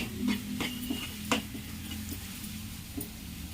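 Grated fresh coconut halwa stirred in a pan after ghee is added, a few sharp scraping clicks of the spoon over a soft, steady low sizzle, close and fairly quiet.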